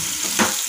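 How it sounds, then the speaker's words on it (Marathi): Chopped onions fry in a pan until golden for restaurant-style paneer tikka masala, giving a close, steady sizzle with a brief stir-like swell midway and no voices. "कांदे मस्त आपले हे गोल्डन रंग येईपर्यंत तळून घेत आहोत आपण"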